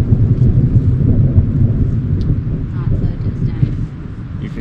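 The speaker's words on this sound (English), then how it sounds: "Looks like we have another powerful thunderstorm coming." Distant thunder from an approaching thunderstorm in the wilderness, a low continuous rumble that swells and fades over several seconds under wind noise, with no clear crack.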